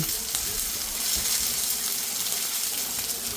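Close, steady sizzling and crackling of onions, peppers and tomatoes frying in hot oil, continuous throughout with a few small pops.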